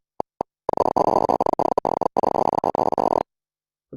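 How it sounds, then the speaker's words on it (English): Monkey neuron spikes played through a loudspeaker during a simple memory task, heard as a dense crackling burst of rapid clicks lasting a few seconds, preceded by two isolated pops and followed by silence. "So let's see if you can hear spikes from a neuron while a monkey does a very simple memory task."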